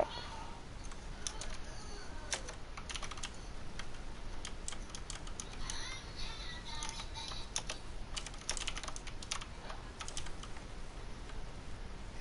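Fast irregular keyboard typing with sharp mouse clicks runs steadily for the whole stretch, close and crisp over a low background hiss.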